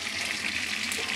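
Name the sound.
fish, onion and green chilli frying in oil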